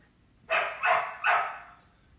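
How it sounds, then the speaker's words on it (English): A dog indoors lets out three loud, close barks in quick succession, each sharp onset trailing off, with no talking over them. "My dog wants in on this."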